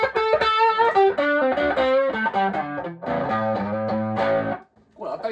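An electric guitar played through a Tube Screamer-style overdrive pedal rings out in sustained, mildly distorted melodic notes and chords, loud and close, stopping briefly before a final note near the end.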